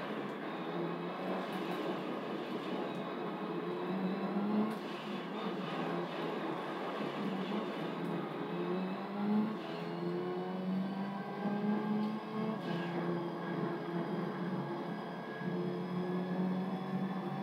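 A rally car engine from the video game Gran Turismo 3 hums steadily and loudly while driving over dirt and grass on the Tahiti Maze rally course, with continuous rumbling and shifting engine tones throughout.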